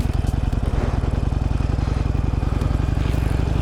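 A motorcycle pulls away from a stop. Its engine gives a close, loud, rapid thumping pulse that holds a steady rhythm throughout, with faint rattling over the top.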